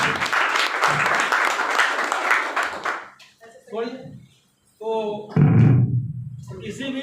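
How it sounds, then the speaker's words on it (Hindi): Audience applause at a gathering in an office setting, a dense burst of clapping for about three seconds, then quieter scattered sounds and voices talking. "मैं चाहता हूँ हमारे रोहिदास सर के लिए भी एक जोरदार तालियों से सम्मान किया जाए"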